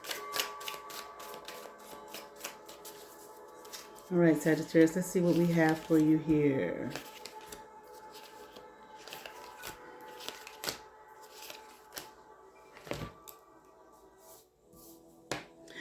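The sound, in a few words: shuffling tarot cards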